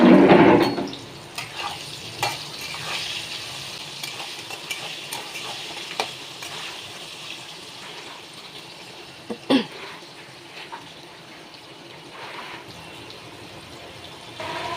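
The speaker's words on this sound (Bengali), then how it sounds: "এই আলুটাকে আমি ফার্স্টে লাল করে ভেজে নেব।" Cut potatoes with a little turmeric fry in oil in a pan for a crab dish, giving a steady close sizzle, with occasional stirring scrapes and clinks against the pan throughout.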